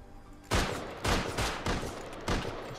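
Gunfire in the survival game Rust comes as four loud, sharp bursts about half a second apart, each a quick blast that cuts off fast, with no talking over them.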